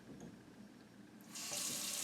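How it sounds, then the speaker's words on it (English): Kitchen or bathroom tap turned on at a sink, a low trickle building into a steady, loud rush of running water that fills the second half alone. "the first thing you're going to do is you're going to turn on the water"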